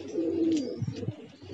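A homing pigeon, back after five days away, gives a short, close, soft coo with a couple of low throaty pulses, alone and without talk.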